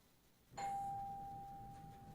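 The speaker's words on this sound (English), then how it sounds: "It sounds like a real doorbell," A doorbell gives a single clear electronic ding that holds as a long steady tone over faint background hiss, with no voices.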